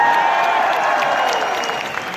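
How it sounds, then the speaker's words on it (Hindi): Applause from an audience at a networking seminar, a loud, dense and steady wash of clapping that fades slightly toward the end. "आप दे दे तालियां तो इस तरफ आवाज है"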